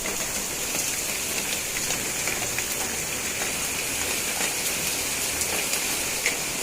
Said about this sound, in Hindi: एकदम फुल तेज़ बारिश हो रही है।